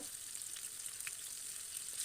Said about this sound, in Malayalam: ഒരു മീഡിയം ഫ്ലെയിമിലാണ് നമ്മളിത് വറുത്തെടുക്കുന്നത്